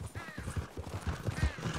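Quick clopping hoofbeats of a horse in a video game, a brisk uneven rhythm of thuds lasting under two seconds, with faint whinny-like tones in the background.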